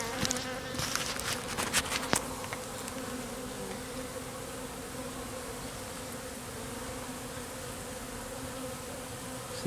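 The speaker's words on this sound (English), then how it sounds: "we got bees everywhere here." A honeybee swarm moving up a ramp into a hive fills the air with a dense, continuous buzz, loud and close, with a few individual bees droning past near the microphone and no talking.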